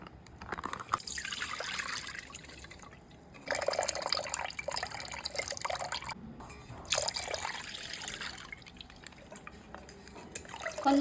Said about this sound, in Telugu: 1 గ్లాస్ నీళ్ళు వేసుకొని కాగబెట్టుకోవాలి